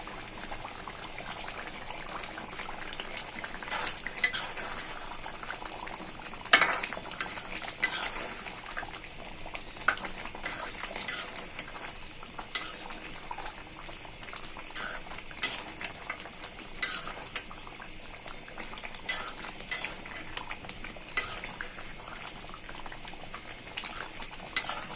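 Beef kala bhuna curry being stirred in a pot, a low steady bubbling and simmer with frequent light clicks and scrapes of a spoon against the pot, fairly faint and continuous.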